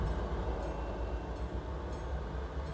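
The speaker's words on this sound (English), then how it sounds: "I'm hearing a train again." A train rolls past in Euro Truck Simulator 2, a steady broadband rumble and rush that holds an even level throughout, with no one talking.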